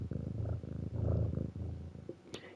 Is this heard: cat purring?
yes